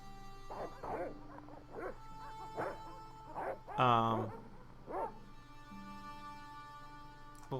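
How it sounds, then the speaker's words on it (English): Dog barks and yips from the Broken Sword adventure game, a run of short evenly spaced barks followed by a louder whining yelp and one more bark, heard over a steady low game hum. "If you do go in the house, I will set the dogs on you."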